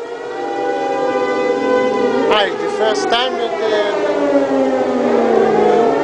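An air raid siren wails steadily in Haifa, Israel, loud and continuous, while people talk nearby.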